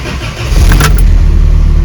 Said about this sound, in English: So yeah, there's the cold start.